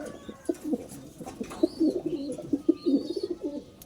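A racing pigeon hen, a producer kept as a breeder, cooing close by in a series of soft, throaty, rolling coos repeated in a steady rhythm, with no talking over it.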